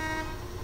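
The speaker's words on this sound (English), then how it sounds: "Let's hear the sound of the horn." A brief, loud, steady horn blast from the Big Z truck in the game SnowRunner sounds out, harmonically rich and sustained for under a second.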